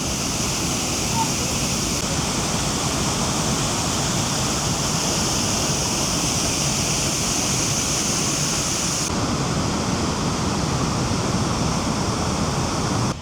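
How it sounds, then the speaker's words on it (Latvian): The Jägala waterfall in winter, hung with huge icicles, makes a loud, steady roar of falling water that stays unbroken throughout. "Jāgales smukais ūdenskritums ir apskatīts"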